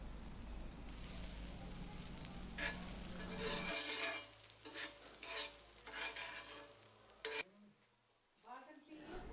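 Onions and spices such as bay leaf and cumin sizzle and fry in desi ghee on a hot tawa, with a steady crackling texture broken by bursts of stirring and scraping, fairly close and loud, with no one talking.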